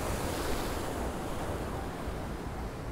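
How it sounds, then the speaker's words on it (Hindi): Rough monsoon sea surf pounds a Goa beach in a constant heavy roar, with wind buffeting the microphone throughout and no break in the noise. "ज़बरदस्त समंदर देखिए कितने उफान पे है"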